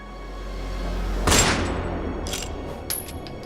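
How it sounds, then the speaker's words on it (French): A single sharp gunshot cracks out once over a low, steady rumble, followed by a few faint crackling echoes. "Tout a commencé avec un coup de feu."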